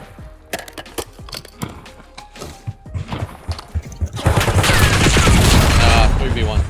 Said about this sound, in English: This guy loves to shoot at me.